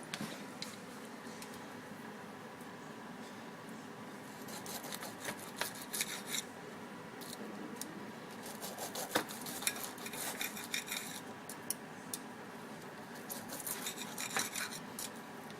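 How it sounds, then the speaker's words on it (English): Knife slicing a fresh tenderloin steak on a board, with soft repeated scraping and rasping strokes and small clicks in irregular bursts, close up and fairly quiet, with no talk. "watch me cut this fresh tenderloin steak"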